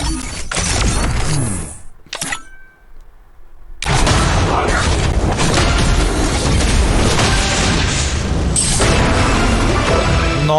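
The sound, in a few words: special gun-swap sound effect in the video game CrossFire (C4)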